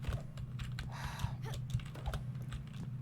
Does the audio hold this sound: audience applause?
no